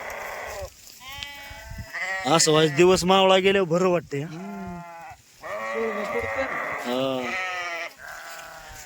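Several sheep bleat loudly and repeatedly in long wavering cries, close by, with a person speaking briefly between the calls.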